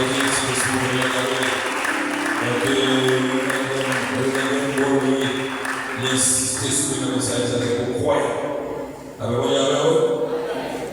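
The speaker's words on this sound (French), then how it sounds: "On applaudit le Seigneur, on applaudit le Seigneur" A church congregation at an outdoor revival gathering in Les Cayes claps together, steady applause running under loud singing and a leader's voice, briefly dipping before picking up again.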